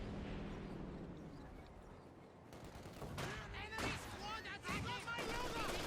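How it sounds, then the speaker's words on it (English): Mortar fire in the World War II strategy game Company of Heroes 2, with thuds and rattling gunfire mixed into a busy battle soundscape beneath steady commentary. "Mortar firing, we got the constant moving in there"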